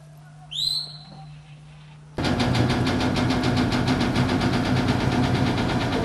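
A brief whistle cuts through a quiet street, then an engine abruptly starts and runs loud and close with a steady rumbling throb, on a street music-video shoot.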